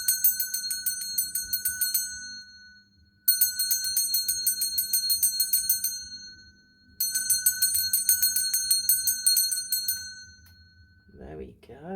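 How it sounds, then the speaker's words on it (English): Three separate strikes of a handheld metal bell, each ringing out bright and sustained with a shimmering tone that slowly decays before the next, the last followed by a brief murmur of talk. "I'm going to ring one of these bells. This is just to cleanse the space around us."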